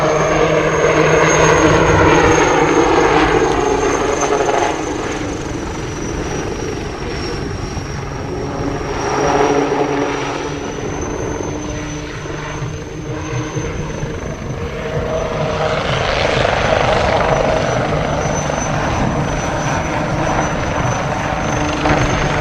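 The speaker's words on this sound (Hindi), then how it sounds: "दुनिया के बहुत सारे देशों के विमान भी इस एरो इंडिया शो के अंदर इस समय हिस्सा ले रहे हैं।" Military aircraft fly over the Aero India air show in Bengaluru, a loud, steady engine drone with rotor-like throbbing that swells and fades as they pass overhead, continuous for over twenty seconds without speech.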